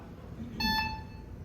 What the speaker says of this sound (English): Oh, there's a buzzer.